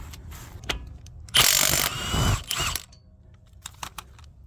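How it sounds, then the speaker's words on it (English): An 18 mm socket ratchets off a swollen two-piece acorn lug nut on a Ford Fusion wheel, giving a burst of clicking ratchet and metal grinding, then a few faint clicks. "simply stick an 18 millimeter socket on there and take the acorn nut off like a normal lug nut"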